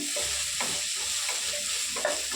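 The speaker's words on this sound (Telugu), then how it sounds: "వేసేసుకొని ఒక్కసారి కలిపేద్దాం" White sauce pasta with soy sauce and chilli sauce is stirred in a buttery pan, a close, steady sizzle with soft, regular scraping strokes and no talking.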